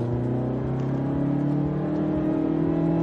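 A Mazda CX-3 2-litre petrol engine, 109 kilowatts, revs steadily from inside the cabin, a loud continuous hum that climbs gradually in pitch with no speech over it.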